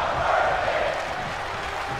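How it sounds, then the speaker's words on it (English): Arena crowd in the WWE 2K22 wrestling video game chanting during a match, a sustained muffled roar of many voices at moderate level throughout the short stretch. "Crowd chanting, we're not worthy."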